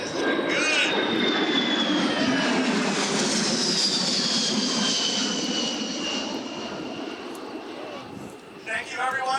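C-17 Globemaster III military transport jet on a low flyby at an airshow, a loud, sustained roaring engine rumble that swells and slowly fades as it passes, with crowd noise and voices at the end.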